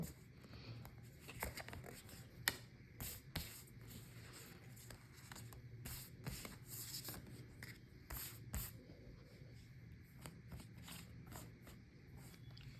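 Oracle cards being shuffled and picked out by hand: a soft, steady run of papery rubs and flicks with sharper card snaps here and there, close and quiet, with no voice over it.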